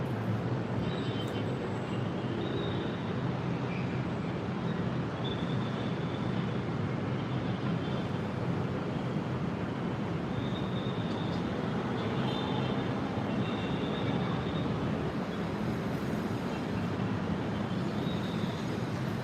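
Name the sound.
Cebu Pacific Airbus A321 airliner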